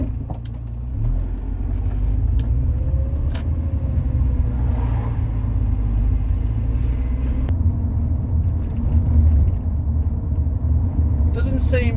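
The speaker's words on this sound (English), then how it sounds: "let's take it for a drive." A Rover 45 with a CVT gearbox that is playing up, driven on a road test, gives a steady low engine and road rumble throughout, with someone talking over it.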